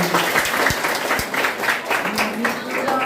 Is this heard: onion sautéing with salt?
no